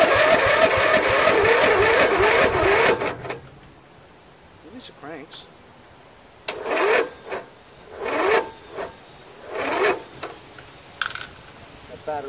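A Briggs & Stratton 14.5 HP OHV engine on a Craftsman LT1000 lawn tractor cranking over without catching, a loud grinding burst that stops, followed by scattered rustling and clanks.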